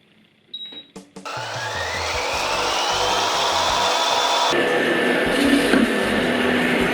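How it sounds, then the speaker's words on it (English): A food processor blends an Asian-style vegan salad dressing on high, starting with a few clicks and then settling into a loud, steady motor whir that shifts pitch partway through and runs unbroken to the end. "We're going to whack the lid on and burn it on high for 30 seconds until all the ingredients are blended down"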